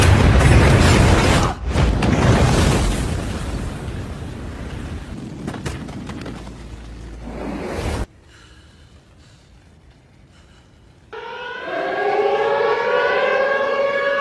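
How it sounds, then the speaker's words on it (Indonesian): A civil defense siren in a zombie film scene set at a White House underground bunker wails in rising, sweeping tones after a stretch of loud, roaring blasts and a quiet pause. The siren is loud and sustained through the final seconds. "Ketika sirine berbunyi"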